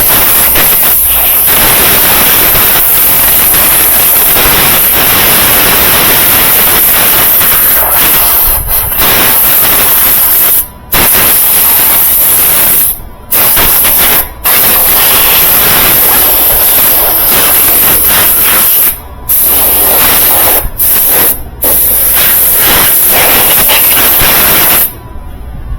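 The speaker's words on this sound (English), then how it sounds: "If you'll take your air hose and just kind of blow all this" An air hose blasts dust off a Whirlpool dryer door switch with a loud, continuous hiss, broken by several short pauses between bursts.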